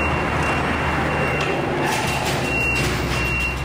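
A large tour bus reverses out of an underpass exit with its tyres let down, sounding a repeating reversing beep over a steady engine rumble and traffic noise.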